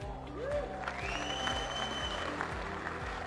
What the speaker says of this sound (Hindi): ताली बजाने के लिए मैं भी वक्त दूंगा।